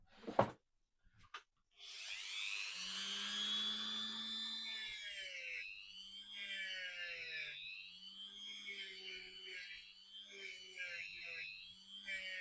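Dremel rotary tool whining at high speed while cleaning a small part during a car restoration, a steady close buzz that rises and dips in pitch over about ten seconds after a brief clatter at the start.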